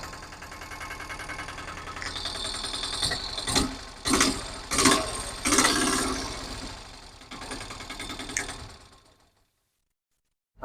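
A small auto-rickshaw engine idles with a rhythmic mechanical clatter, several louder revving bursts in the middle, then it cuts off into silence.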